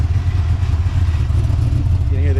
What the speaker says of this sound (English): You can hear the exhaust rattling a little bit